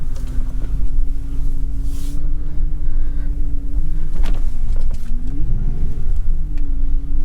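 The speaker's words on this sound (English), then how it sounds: "go for a test drive around the block." A Mercury Grand Marquis on a test drive around the block, with a steady, loud engine and road rumble running throughout and a slight rise and fall in pitch as it moves.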